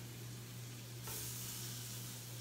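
Pamplona chorizo fries in a non-stick pan with no added oil, giving a steady, close, hissing sizzle with a constant low hum beneath it and a slight rise in brightness partway through.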